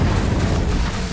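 An Incendio fire spell cast in Hogwarts Legacy erupts as a loud, dense whooshing burst of flame with a heavy booming low end, sustained briefly at full strength before easing slightly.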